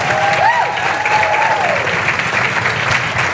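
A conference audience applauds the organizing committee at a tech conference: dense, sustained clapping from a large crowd with a few whistles early on, steady in loudness across the moment.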